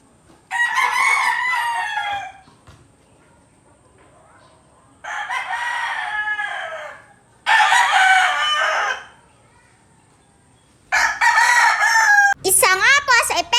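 A rooster crows repeatedly, four loud, drawn-out calls separated by pauses, ending with a burst of squawking clucks.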